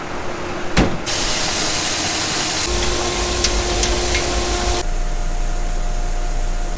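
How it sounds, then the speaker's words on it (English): A farm tractor pulling a stuck truck, a steady engine drone with broad rushing noise that swells for a few seconds and then settles to a lower hum, with no voices. "This tractor should hopefully be able to pull me out."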